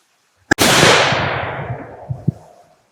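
A single loud, sharp rifle gunshot fired during recoil testing of hybrid ammunition loads, with a long decaying echo rolling away across open ground and a couple of faint distant reports at the tail.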